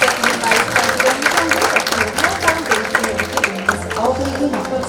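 Applause from an audience welcoming a speaker to the stage at an opening ceremony for a Korea–ASEAN mask exhibition, with steady dense clapping that carries throughout, crowd noise and a voice talking over it.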